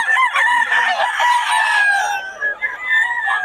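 Several roosters crow loudly and close by, their calls overlapping continuously, with clucking mixed in among the crowing.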